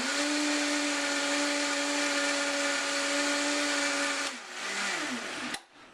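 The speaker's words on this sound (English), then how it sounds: "I'm just putting them in the blender, and I'm just going to run through the blender." Whole peeled canned tomatoes whir in a blender at a loud, steady high-pitched drone for several seconds, then the motor winds down and cuts off with a click.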